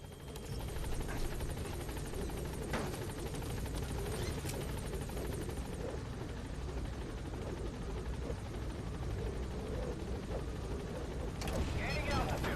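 The Pequod helicopter in Metal Gear Solid V hovers at a landing zone, its steady thudding rotor wash and turbine roar loud and constant throughout, with occasional clanks and a muffled voice over it.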